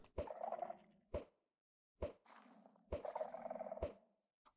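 A few short bursts of blocky Minecraft chicken clucking, each one opening with a click and separated by brief silences.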